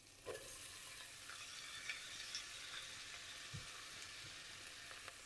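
Onions sizzling and frying gently in melted butter or ghee for a tarka dal. The hiss is soft and steady, with a few faint stirring clicks and no talking.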